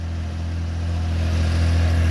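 A 1982 Honda CBX motorcycle engine, carbureted, running steadily with a low, smooth drone that builds slightly in loudness, close by and without talk.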